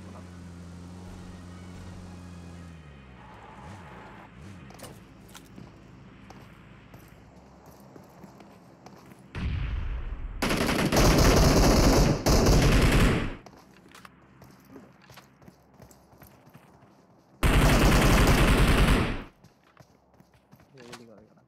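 Automatic gunfire in PUBG bursts out loud in two long sustained volleys, with softer scattered shots and game sounds between them and a quieter stretch of background at the start.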